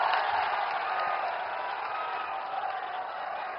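An audience applauds at a public foundation-stone event in Azamgarh. The clapping is steady and sustained, heard from a moderate distance with no clear voices over it.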